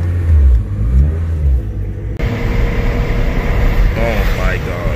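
A supercharged BMW M3 pulls away to a car meet, its engine rumbling low and steady with a rising rev close by, while people talk over it inside the car.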